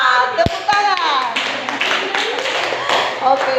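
Children clap their hands in a classroom, starting with a couple of sharp, close claps and then a looser scattered round of clapping mixed with young voices calling out.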